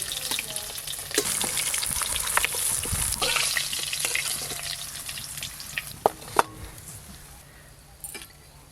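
Live snakehead (shol) fish pieces sizzle in frying oil with continuous crackle, punctuated by utensil clinks and stirring knocks near the pan.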